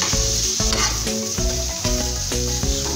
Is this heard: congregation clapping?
no